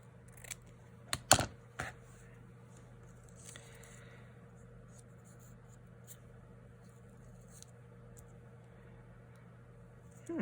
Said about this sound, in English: I'm just gonna cut a little piece of this off and see.